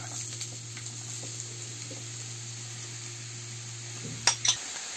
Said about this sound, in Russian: Выкладываем лук с морковью жарить.